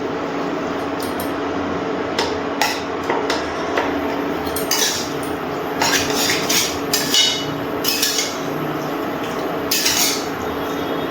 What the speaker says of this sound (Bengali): এবার খুব ভালো করে নাড়াচাড়া করে মিশিয়ে নিচ্ছি।